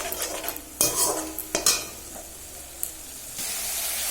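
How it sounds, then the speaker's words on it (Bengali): Cumin and chili powder masala, with coriander powder, fries in a pan as drops of water are added, giving a steady sizzle broken by scraping stirs and a few sharp clinks of a spoon against the pan. "এক ফোঁটা করে জল দিয়ে ভালো করে কষিয়ে নেবো মশলাটা।"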